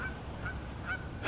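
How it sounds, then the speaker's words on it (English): Geese honking a few times in short, separate calls at moderate distance outdoors, with a louder burst at the very end. "Almost had to fight some geese."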